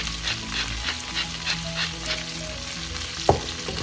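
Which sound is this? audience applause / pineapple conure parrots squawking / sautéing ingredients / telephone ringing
sautéing ingredients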